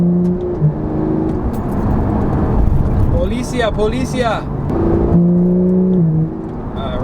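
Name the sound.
Porsche GT3 engine revving and exhaust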